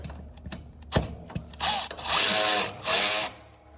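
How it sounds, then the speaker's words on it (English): Hand ratchet working loose the battery hold-down bolts on a Gravely ZTHD zero-turn mower: a few sharp metallic clicks, then three bursts of dense, fast ratcheting, close and loud, with no talking. "I'm gonna go ahead and take these bolts loose with my handy dandy ratchet here."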